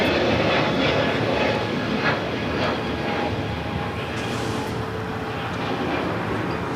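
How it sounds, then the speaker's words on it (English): A JetBlue Airbus A321neo jet roars at LAX, a loud, steady engine rumble from a nearby airliner with no talking over it. "It's JetBlue flight heading to Boston, flight 1188, A321neo."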